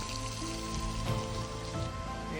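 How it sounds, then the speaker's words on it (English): A small waterfall in a canyon at Zion National Park splashing down like rain, a loud, continuous, close-up patter and spray with steady intensity throughout. "Little waterfall coming down right here"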